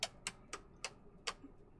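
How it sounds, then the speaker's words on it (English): Camair 480 Twin Navion aircraft engine ticking as it cools after shutdown in Microsoft Flight Simulator, five crisp, evenly spaced clicks about a quarter second apart, clear and close against a quiet background. "Still has that clicking sound,"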